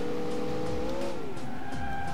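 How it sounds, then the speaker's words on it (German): A car engine in the racing video game Alarm für Cobra 11 Highway Nights holds a steady tone, then drops in pitch as the car drifts onto the finish straight. A second engine rises higher toward the end, with no talking. "So, schön auf die Zielgerade eindriften."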